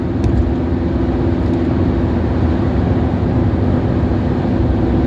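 A lorry drives past on a narrow village road, a steady loud engine and tyre roar filling the whole stretch without letting up, no voices over it.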